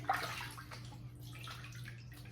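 Running tap water fills a sink before a double-edge safety razor shave with a RazoRock Lupo 0.72 and Barrister & Mann Fougere Angelique soap: a steady, quiet, continuous splashing flow with a low hum underneath.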